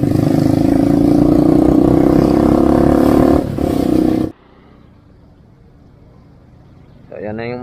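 A motorcycle engine on a night ride along a city street, loud and steady at close range for about four seconds, then dropping out abruptly before a brief return at the end.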